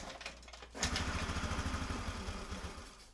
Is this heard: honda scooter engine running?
yes